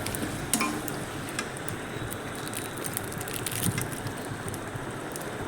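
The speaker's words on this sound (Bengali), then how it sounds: "মশলাটা দিয়ে আমি আবারও একবার নাড়াচাড়া করে নেব" Spicy pasta with a pasta spice mix being stirred in a pan, giving a steady crackling sizzle with soft scraping and shuffling throughout and no talking.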